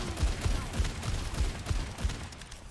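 Rapid bursts of gunfire from an unlimited-ammo ultimate in the video game Overwatch 2, a quick steady string of punchy shots lasting a few seconds with faint background game noise.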